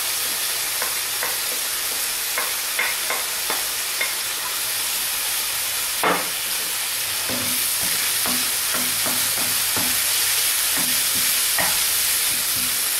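Large garlic cloves frying in a pan with ras el hanout, coriander and a little red pepper, a steady close sizzle broken by repeated scraping stirs and clinks of a utensil, with no talking.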